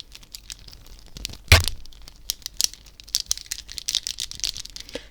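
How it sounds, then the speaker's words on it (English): Interlocked plastic pieces of a tangle fidget toy are twisted and clicked close to the microphone, one sharp crack followed by a quick series of light crinkly ticks and snaps, with no talking. "it's essentially lots of different interlocked plastic kind of just pieces that can all twist independently and together."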